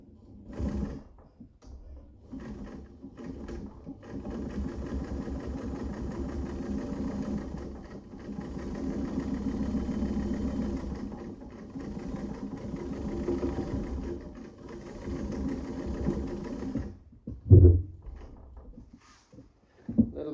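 A Class 15 clone sewing machine modified for heavy-duty marine canvas stitches a long stitch through three thin layers, running as a steady, close mechanical whir for most of the span before stopping with a brief clunk.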